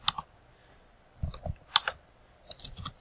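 Typing on a computer keyboard while entering a percentage rate into a spreadsheet: quiet, close clusters of key clicks in short irregular bursts with pauses between them.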